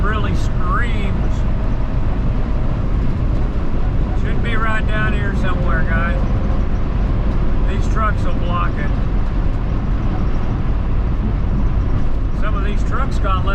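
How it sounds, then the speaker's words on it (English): The V10 engine of a motorhome strains up a mountain pass into a headwind, a loud, steady roar that runs unbroken through the whole stretch while someone talks over it. "Little old V10 really screams."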